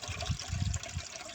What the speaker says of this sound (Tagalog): Nilagyan na ng tubig yung kaldero.